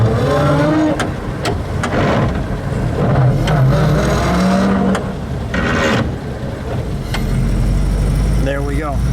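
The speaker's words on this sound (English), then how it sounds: "So let's hear that distinctive whine." A 1920 Packard Twin Six runabout with straight-cut transmission gears runs and pulls, a steady engine drone with rising and falling gear whine, under some passing voices.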